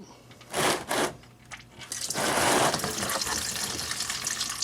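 Automatic transmission fluid drains from a Honda Accord 2.4L after the drain bolt is pulled, a couple of brief clanks and then a steady, close pouring splash into a pan.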